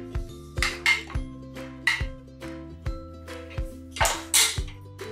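A pressure cooker holding coconut milk rice is opened, with a series of metallic clanks and ringing knocks from the lid and pot, close and fairly crisp, about a dozen separate hits with short decays.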